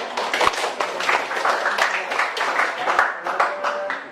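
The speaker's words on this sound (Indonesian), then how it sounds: "Berikan aplaus dulu pertanyaan." A classroom full of students claps for a classmate's question, a few seconds of steady scattered applause with a couple of sharper claps standing out, close and fairly loud.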